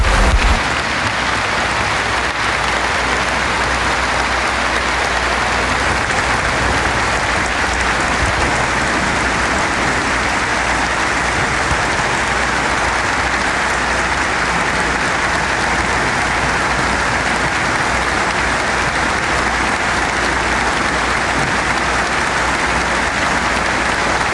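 A huge crowd of church pastors and leaders, around five thousand strong, applauds in a dense, loud, unbroken roar of clapping that sounds almost like heavy rain and runs steadily throughout.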